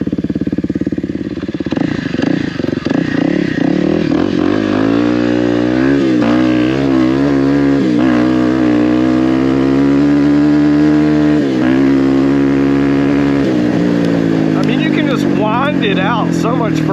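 A Kawasaki KLX300R dirt bike fitted with an EJK fuel tuner makes flybys, its single-cylinder engine revving hard and climbing in pitch through repeated shifts and swells, loud and close, with a voice briefly audible under the engine noise.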